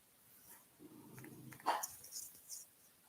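A dog growls in a low, rumbling tone for under a second, fairly quiet against faint background noise, followed by a few soft rustling sounds.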